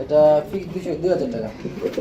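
Nun pigeons give soft, throaty coos up close, a low warbling call that overlaps with someone talking.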